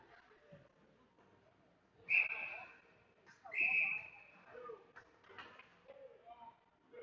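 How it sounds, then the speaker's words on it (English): Two sharp shrill referee whistle blasts at an ice hockey game, each about a second long, heard faintly behind rink ambience and a commentator talking. "We're going to have a whistle and a face-off"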